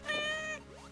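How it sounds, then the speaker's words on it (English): Cat meows from the Metroid Planets video game, a short harmonic mew that rises and falls, fairly clear and up close, with no talking over it. "These are certainly cat noises."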